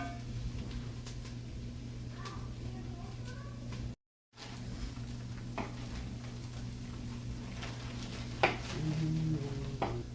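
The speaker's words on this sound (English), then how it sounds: "I want to get my onions well cooked before I put everything else in." Onions cooking in a pot over an open fire for potato soup, giving a steady soft sizzle with a few faint clinks against a low background hum.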